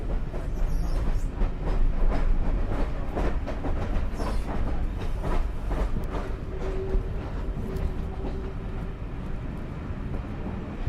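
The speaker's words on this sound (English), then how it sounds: "two wonderful steam engines powering a train across" A train pulled by two steam locomotives rumbles along continuously, heavy low chugging and rolling wheel noise heard from on board, with a faint squeal partway through.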